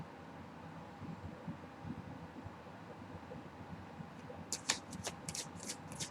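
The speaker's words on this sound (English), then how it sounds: "I'm going to go ahead and shuffle some more" Tarot cards are shuffled quietly, with soft riffling and then a quick run of crisp snaps and flutters near the end.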